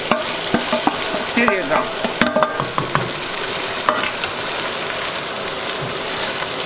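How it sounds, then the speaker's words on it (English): Molokhia sizzles and fries in a pan over high heat while a spoon scrapes and stirs it, with clacking stirring strokes over steady frying hiss and a brief spoken remark. "we're gonna stir it together in high heat"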